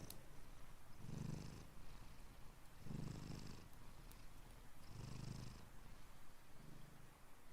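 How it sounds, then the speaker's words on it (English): A cat purrs steadily up close, the rumbling swelling in four rhythmic surges with each breath and no other sounds around it. "You hear this purring?"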